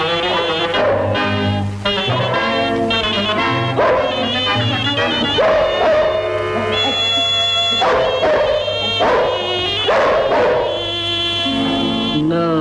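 A dog's bark and yip sounds are woven into a 1960s–70s Tamil film love song, mixed among dense orchestral music and singing throughout.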